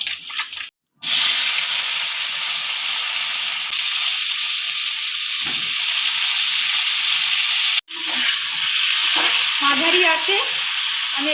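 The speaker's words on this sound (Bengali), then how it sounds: "এবার আমি এখানে ফুলকপিটা ভাজবো" Steady crackling sizzle of cauliflower frying in hot oil, loud and close, with two brief dropouts and a few clinks near the end.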